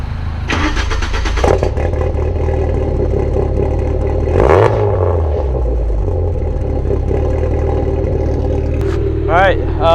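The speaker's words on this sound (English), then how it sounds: "get a little cold start? Cold start?" A car engine cold-starts at a car show, cranking and catching, then revving up and settling into a loud, close idle with a couple of throttle blips while people talk nearby.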